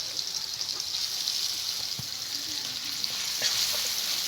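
Ginger and green chili paste fries with tomato paste in a pan, giving a steady, close sizzle with occasional soft stirring clicks.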